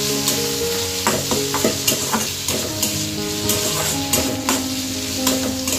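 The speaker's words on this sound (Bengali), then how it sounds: "তার জন্য একটু ম্যাগি রান্না করছি।" Maggi noodles are stir-fried in a pan, with a steady close sizzle of hot oil punctuated by repeated scraping and tossing strokes of the spatula at an uneven rhythm.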